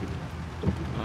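Steady rain in the City Car Driving game, heard from inside a Kamaz 5511 truck: an even wash of dense rainfall with a soft low thump partway through, moderately quiet, with no talking.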